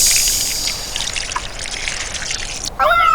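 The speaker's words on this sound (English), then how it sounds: "The water comes spurting out the hose." Water spurting from a garden hose in a steady hissing trickle that fades slightly, then stops abruptly near the end as a voice begins speaking.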